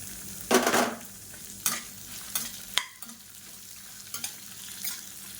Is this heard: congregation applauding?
no